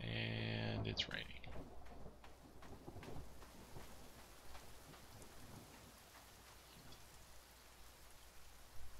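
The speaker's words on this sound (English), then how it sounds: "And it's raining." Rain falls in the video game The Forest. After a brief loud tone at the start, a faint, steady patter of rainfall continues alone at low volume.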